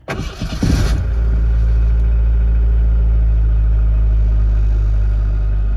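A car engine cranks for about a second in a loud, sputtering burst, then catches and settles into a steady, deep idle rumble that holds close and constant to the end.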